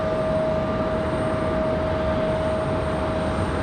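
An airplane lands at Raleigh-Durham airport with a loud, continuous engine roar and a steady high whine running above it from start to finish.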